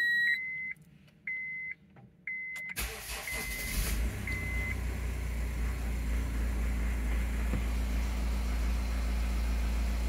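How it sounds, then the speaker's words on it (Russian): A Honda CR-V with the 2.2 i-DTEC 150 hp diesel is cranked after EGR valve work, following a few electronic beeps, then settles into a steady, close diesel idle that hums on evenly to the end. "мотор работает, все четко"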